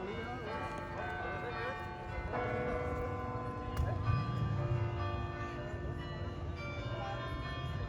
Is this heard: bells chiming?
yes